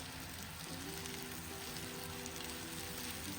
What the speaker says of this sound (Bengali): এরপর তেলের মধ্যে কেটে রাখা আলুগুলো দিয়ে দিলাম। এগুলো বেশ খানিকটা সময় ধরে ভাজবো।